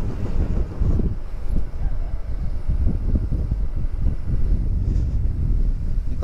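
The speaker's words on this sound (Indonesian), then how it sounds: "Anginnya lumayan cukup kencang teman-teman." Fairly strong, cold wind on a clear day outdoors in Majalengka, West Java, buffeting the microphone with a continuous loud, low rumble that gusts and swells throughout.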